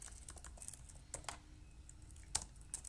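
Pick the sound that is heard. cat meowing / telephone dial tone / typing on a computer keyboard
typing on a computer keyboard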